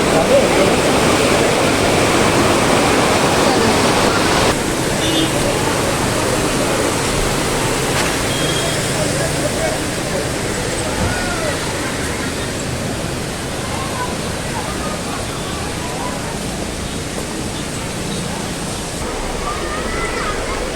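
A waterfall at Rock Garden in Darjeeling gives a steady, loud, close rushing roar of falling water throughout, with faint voices beneath.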